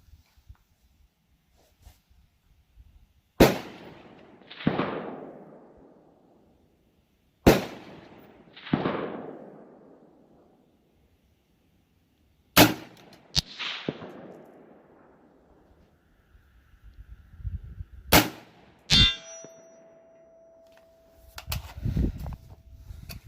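Sharp AR-15 rifle gunshots crack out one at a time at irregular intervals, each trailing off in a rolling echo, with more distant shots near the end.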